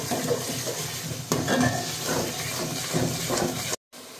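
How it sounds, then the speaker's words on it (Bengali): A spice paste of turmeric, salt and chili powder sizzles and fries in a pan while a spoon stirs it in steady scraping strokes, close and moderately loud, with a brief dropout near the end. "তো এখন হলুদ, লবণ, মরিচের গুঁড়া সব মিক্সড করে খুব সুন্দর করে এখন এই মশলাটা কষিয়ে নিব আরও মিনিট 5 মিনিটের মতো"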